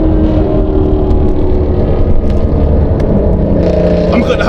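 A BMW speeds past on a highway at a street-racing car meet, its engine roaring loud and close over steady traffic rumble, with people talking nearby.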